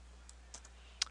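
A few sparse, faint clicks from typing on a computer keyboard while entering a search, with a single sharper keystroke near the end and otherwise near silence.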